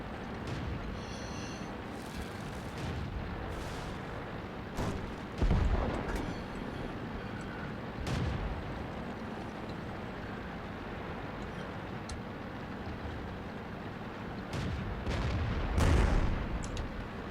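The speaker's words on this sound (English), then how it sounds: "There's their artillery taking some pot shots at me." Enemy artillery firing in the tank battle game World of Tanks, with several distant booming shots spaced irregularly over a steady background of engine rumble, and no talking.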